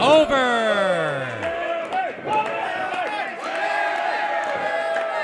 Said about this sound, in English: This Green Bay crowd fired up for Big Devan Drake